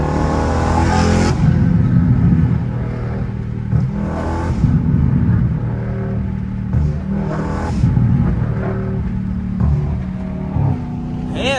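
A straight-piped widebody Dodge Charger Scat Pack roars at wide open throttle, a loud, continuous raw exhaust drone that rises and falls through several pulls and shifts, close up with no talk.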